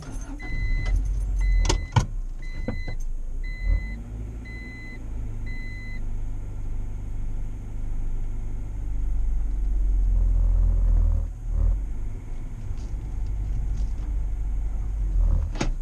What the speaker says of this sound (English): I'm gonna start the car and go.